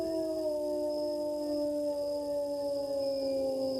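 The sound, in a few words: person imitating a howl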